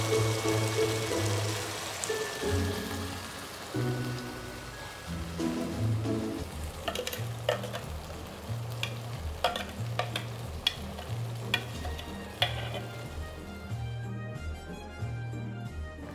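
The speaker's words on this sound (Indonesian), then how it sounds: "kena tumis bahan-bahan yang kita kisar ya" Ground spice paste sizzles steadily as it is sautéed in oil reused from frying chicken for ayam masak kicap, with scattered stirring clicks under a continuous rhythmic music bed.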